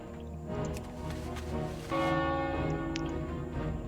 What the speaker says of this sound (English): I've got to ring the town bell